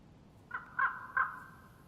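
A crow caws three times in DayZ, set in Chernarus, a harsh call repeated at roughly even intervals, moderately close over a low, steady outdoor background hum, with no talk.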